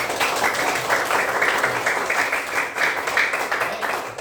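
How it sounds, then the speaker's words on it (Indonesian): Classroom applause from a group of schoolchildren, a steady, moderately loud patter of many hands clapping close by, with no talk over it. "Tepuk tangan buat kita semua."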